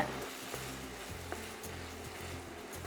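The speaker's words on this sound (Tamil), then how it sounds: "நான் அஞ்சு நிமிஷமாக வதக்கிட்டு இருக்கேங்க" Dried red chillies, garlic and tomato sauté in a pan, giving a soft, steady sizzle close by with a few faint stirring taps.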